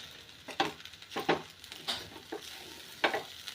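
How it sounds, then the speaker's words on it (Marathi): Sabudana khichdi stir-fried over a low flame, a gentle sizzle broken by a string of soft scraping stirs of the spatula coming at irregular intervals, close and fairly quiet. "मंद आचेवरतीच आपल्याला ही खिचडी परतून घ्यायची चांगली"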